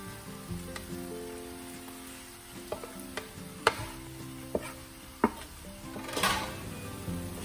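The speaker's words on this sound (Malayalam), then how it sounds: "ഇനി നമുക്കിതിലേക്ക് ക്രഷ് ചെയ്ത് വെച്ചിട്ടുള്ള ബീഫ് ചേർത്ത് കൊടുക്കാം." Crushed beef stirred into masala in a pan, with soft sizzling under sharp clinks and scrapes of a spoon against the pan, irregular and close.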